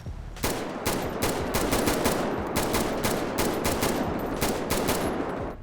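A weapon fires on full auto in a video game, a loud, continuous stream of rapid gunshots in a fast, even rhythm lasting several seconds with no talk.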